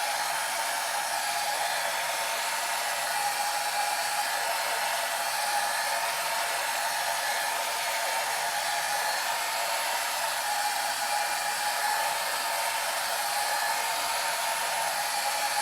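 A hair dryer blows steadily on alcohol inks, a constant loud, close airy whir with a high motor whine that holds unchanged for about sixteen seconds, no voices.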